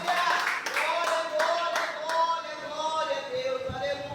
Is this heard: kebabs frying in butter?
no